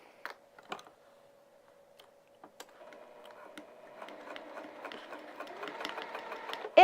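A sewing machine stitching a vinyl project bag, starting with a few isolated clicks and a faint hum before building into a continuous, fast mechanical whir that grows louder toward the end.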